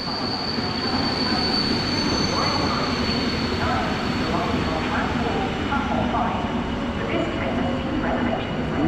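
Złoty Griffin passenger train passing through Warszawa Zachodnia station in Poland, a loud, steady rumble of rolling wagons with wheel squeal running throughout the whole stretch.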